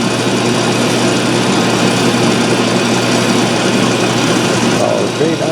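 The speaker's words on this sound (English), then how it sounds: "So I got the shaft in the lathe and I'm working on turning it down to 3/4." A metal lathe turns a shaft down to a 3/4 inch diameter, giving a steady, loud machine drone with a constant hum and broadband noise that holds through the whole stretch.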